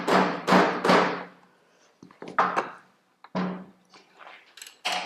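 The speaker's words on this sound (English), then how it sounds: "He's got a hammer." A hammer strikes a tight bolt on a Honda Navi scooter exhaust in several sharp, close metallic hits, three quickly at first and then a few more spaced out.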